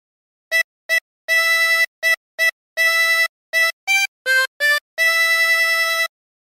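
A 24-hole tremolo harmonica plays a Jingle Bells phrase: about a dozen clear, bright reedy notes alone, short repeated blasts broken up by two longer held notes, moderately loud and close.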